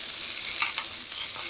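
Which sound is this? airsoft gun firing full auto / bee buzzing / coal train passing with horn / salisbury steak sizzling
salisbury steak sizzling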